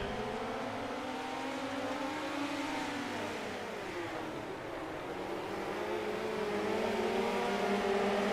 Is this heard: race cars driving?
yes